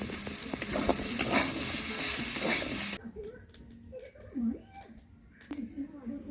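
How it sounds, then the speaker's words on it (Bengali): Potatoes for aloo posto fry and sizzle loudly in a pan with steady stirring for about three seconds, then the hiss drops away, leaving quieter scraping and faint voices. "আলুগুলো খুব ভালো করে ভেজে নিয়েছি এবার নামিয়ে নেব"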